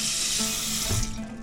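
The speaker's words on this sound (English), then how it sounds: "You get some just some water in the pot." Tap water pours steadily into a cooking pot for oatmeal, a close, continuous rushing stream that shifts slightly in pitch as the pot fills.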